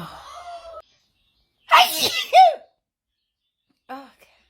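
A sneeze from someone who is a bit cold, the third in two days, bursts out loud and close in a sharp double blast. It comes between short stretches of talking.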